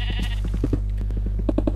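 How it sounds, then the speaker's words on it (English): Sheep bleating in the Minecraft video game, a short run of quick, nasal bleats close up over a steady low hum of game background sound. "Oh god, sheep."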